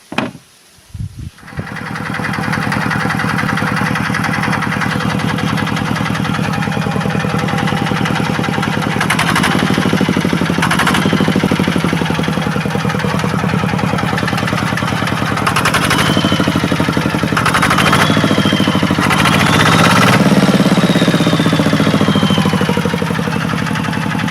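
A steady Chinese motor tractor engine idles loudly and continuously, a low mechanical chugging that runs throughout after a few brief knocks at the start.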